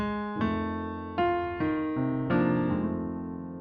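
Piano plays a short 12-bar blues chord sequence, about six sustained chords, each struck cleanly and left ringing as the next comes in.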